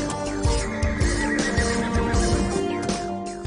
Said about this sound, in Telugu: ఆ గుర్రం.